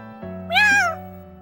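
A voice actress imitates a cat's meow for an anime, a single clear rising-falling mew at close range, alone over a faint steady background hum.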